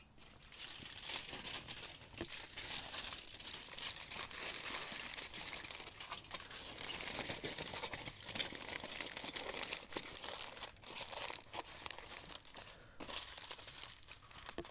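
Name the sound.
wrapping a stuffed banana in aluminium foil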